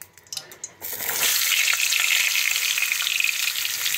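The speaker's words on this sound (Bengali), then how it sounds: "পটলটা ভেজে নিচ্ছি।" Pointed gourd (patol) rubbed with turmeric dropped into hot oil, a few light knocks followed by a sudden loud, steady sizzle close by.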